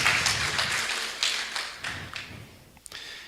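A church congregation applauding during a sermon, a crowd clapping that starts full and thins to scattered claps and fades toward the end.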